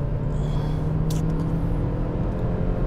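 Kia XCeed First Edition engine revving hard as the car accelerates from about 25 mph, a loud steady drone heard from inside the cabin with no talking.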